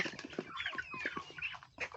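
Rhode Island Red chickens, a dual-purpose meat-and-egg breed kept with three-to-four-month-old chicks and crossbred hens, cluck and squawk close by in a busy, overlapping series of short calls with no talking.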